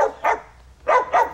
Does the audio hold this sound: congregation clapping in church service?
no